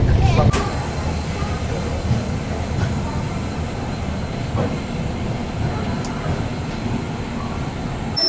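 The East Coast Express pulling into Visakhapatnam railway station in Andhra Pradesh, a steady rumble of rolling train wheels with brief clanks and a faint squeal over a continuous mechanical roar.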